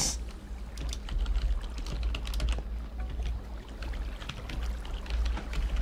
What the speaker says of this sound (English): Wow, why am I typing?